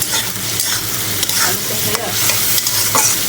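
Fish curry with potatoes and spices bubbles in a pan, giving a loud, dense, continuous sizzle with stirring scrapes mixed in, heard up close with no speech.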